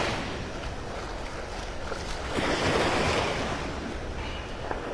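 Waves washing ashore at Vanderbilt Beach in North Naples, Florida, a continuous broadband surf wash mixed with wind buffeting, swelling slightly midway, with no voices.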